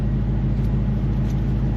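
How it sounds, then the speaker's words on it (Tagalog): A deep, steady 5-liter car engine idle hums continuously, loud and close, with no voices over it. "That's a 5-liter engine."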